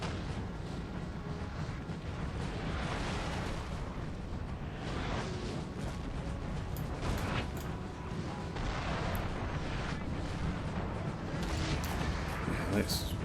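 Artillery in a Napoleon: Total War battle, run with the Darthmod mod in a Russian Empire campaign, fires as a dense, continuous rumble of booms and bursts, with voices talking over it throughout.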